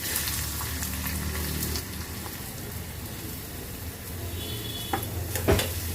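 Chopped onion dropped into hot oil with crackling mustard seeds, a dense close sizzle like heavy rain, easing slightly, then a few sharp clicks and a knock near the end.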